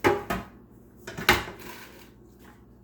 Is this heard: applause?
no